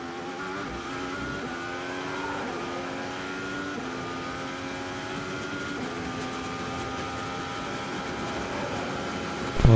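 A Formula 1 car accelerates with heavy wheelspin in qualifying at the Austrian Grand Prix, heard from onboard as a steady high-pitched engine scream whose pitch rises through the gears without a break for about ten seconds.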